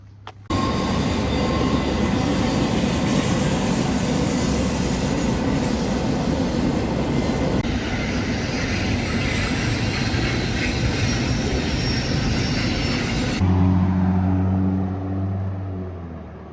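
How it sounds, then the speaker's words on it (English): A train rounds a curve in the mountains near Jasper and Banff, rolling past continuously with a loud rumble and rattle of wheels, a faint squeal over it, before the noise suddenly drops away near the end. "to get the famous train coming around the curve with the mountains in the background"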